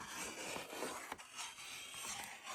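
A Creative Memories 12-inch decorative trimmer with its wavy blade rasps steadily through scrapbook paper, trimming a quarter inch off the tops in a continuous soft scraping stroke, close and quiet.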